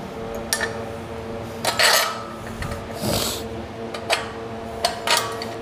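Bolts are tightened by hand while an adjustable home-gym bench is assembled, producing close metallic rasps, scrapes and light clinks in irregular bursts with no talking.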